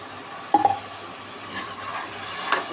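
Yogurt poured and stirred into a frying plain biryani base, a soft steady sizzle with brief scraping stirs and a clink of a utensil against the pot, close and fairly quiet.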